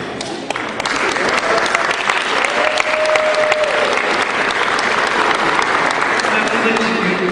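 Loud, sustained audience applause fills a pep rally for a university's education college, dense clapping steady throughout with crowd voices mixed in.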